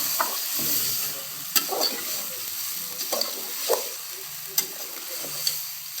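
Marinated chicken pieces sizzle in oil in a pan for a Maharashtra dhaba-style chicken dish, with a steady frying hiss and periodic scraping clacks of a spatula stirring, close by, with no talk.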